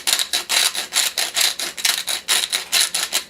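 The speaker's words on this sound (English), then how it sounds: "And then a good shot of coarse ground pepper." A pepper grinder twists out coarse black pepper onto zucchini in about ten rhythmic, gritty crunching strokes, loud and close with no talking.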